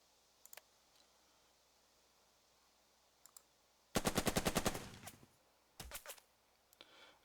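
A machine gun in Burden of Command fires recon-by-fire bursts: one dense rapid burst in the middle, then a shorter burst, with a few faint isolated shots and clicks around them in otherwise quiet surroundings.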